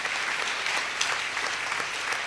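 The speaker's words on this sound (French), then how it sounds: "est-ce que tu peux acclamer très fort le Seigneur?" A church congregation at a fasting and prayer service claps in a dense, steady burst of applause that holds at an even level from start to end.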